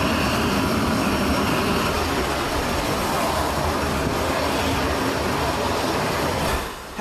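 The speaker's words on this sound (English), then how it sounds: "This Globemaster aircraft acts as a military transport aircraft" Boeing C-17 Globemaster military transport aircraft engines roar in a loud, steady, unbroken wash that holds for several seconds before dropping away abruptly at the end.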